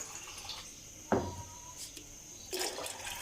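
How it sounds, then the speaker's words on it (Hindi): Water is added to a cooking pot while making karhi pakora, a brief close splash and short pour standing out after a quiet start, followed later by a softer run of trickling. "थोड़ा सा मैं इसके अंदर पानी ऐड करूँगी।"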